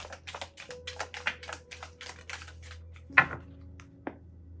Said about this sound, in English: It's so hard shuffling circle cards